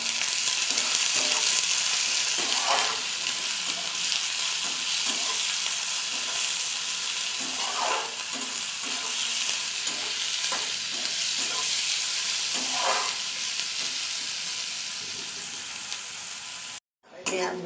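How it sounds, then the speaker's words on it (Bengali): Onions frying with salt in a pan give off a dense, continuous sizzle, with occasional soft stirring scrapes, close and loud throughout before cutting off abruptly. "পেঁয়াজ ভাজা হয়ে গেছে"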